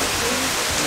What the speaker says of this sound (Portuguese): A chuva deu um apertado